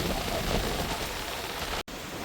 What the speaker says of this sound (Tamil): மழை பெஞ்சு கொண்டிருக்கு